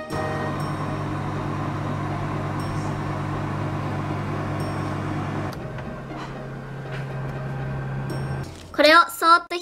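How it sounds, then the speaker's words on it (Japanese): A microwave oven heating white batter from a Kracie panda-shaped drawing candy kit, a steady droning hum that cuts off partway, then falls quiet before a few sharp electronic beeps at the end. "こちらを電子レンジで加熱していきます。"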